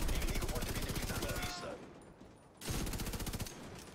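A light machine gun in The Division 2 fires in long rapid bursts, loud and close, with a short pause midway before the stream of shots resumes.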